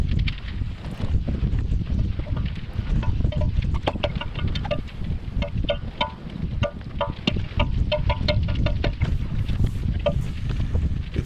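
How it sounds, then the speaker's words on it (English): Strong wind gusting on a windy outdoor day, a loud continuous rush buffeting the microphone with scattered clatters and knocks. "It's a really windy day"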